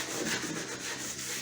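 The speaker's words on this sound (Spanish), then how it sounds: "vamos a dar una pasada superficial con nuestra lija" Sandpaper rubbed in light, even passes over the wood of a coffin being finished with direct-gloss polyurethane, a close, steady scratchy hiss with no talking.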